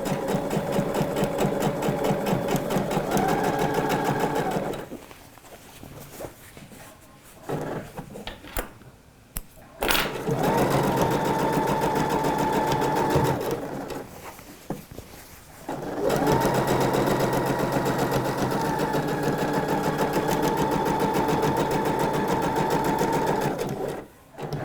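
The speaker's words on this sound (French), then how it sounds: "Donc on passe tout de suite à la machine à coudre." Close sewing machine running gathering stitches along a trouser leg, in two long steady bursts separated by a quieter pause with handling noises.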